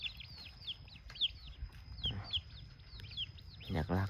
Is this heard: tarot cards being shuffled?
no